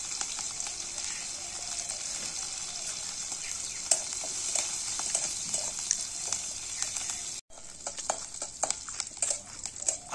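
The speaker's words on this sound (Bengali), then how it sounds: "তেলে আদা দিয়ে দিয়েছি, এবার লঙ্কাটাও দিয়ে দিলাম।" Green chillies tossed into hot oil with ginger sizzle and crackle steadily and close, a bright, continuous frying hiss with scattered pops, briefly cut off for a moment before resuming.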